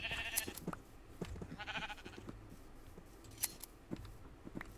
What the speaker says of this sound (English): I'm going to just shear a bunch of sheep.